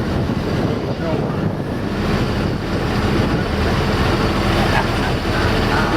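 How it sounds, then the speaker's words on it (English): Wind roars steadily into the microphone while crossing a bridge by the marina, a loud continuous buffeting rumble with broadband whoosh filling the whole stretch, no talk over it. "Windier as we go across the bridge."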